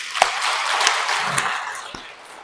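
A congregation claps together inside a Catholic church, Samga-dong parish in Yongin, giving a steady wash of applause that thins out gradually toward the end, with a few sharper individual claps standing out.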